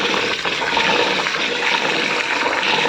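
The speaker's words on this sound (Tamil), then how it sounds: "அரிசியை நல்லா கழுவிக்கலாம்" Raw white rice, three kilos meant for idiyappam flour, is washed in water with steady sloshing and rushing water, loud and continuous and close up, with no talk.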